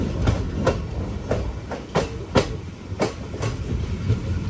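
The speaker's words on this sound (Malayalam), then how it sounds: "ട്രെയിൻ ഇതാ പുനലൂർ റെയിൽവേ സ്റ്റേഷനിലേക്ക് എത്തിക്കൊണ്ടിരിക്കുകയാണ്" The Madurai to Punalur Express rolling into Punalur railway station with rhythmic clickety-clack of wheels over rail joints, steady and close, a loud rumble throughout without any voices.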